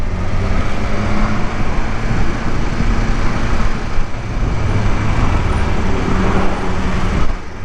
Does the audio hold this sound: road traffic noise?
yes